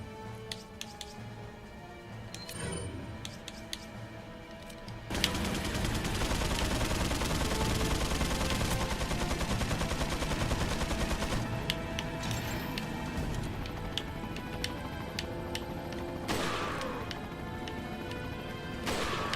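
Rapid sustained gunfire from the video game Resident Evil 4, a dense continuous barrage of shots that starts abruptly and runs loud over layered game music and effects.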